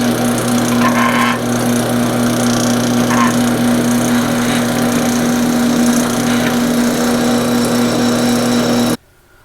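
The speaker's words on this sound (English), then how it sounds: "We're going to go ahead and drill our 2 clearance holes" A power drill whines steadily and loudly for about nine seconds, drilling clearance holes in metal, with a constant motor hum and gritty cutting noise, then abruptly stops.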